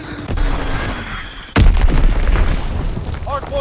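Azon bomb exploding in a World War II shooter game, one loud sudden boom that rolls into a long rumble over ongoing game noise and distant gunfire.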